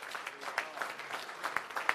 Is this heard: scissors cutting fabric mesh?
no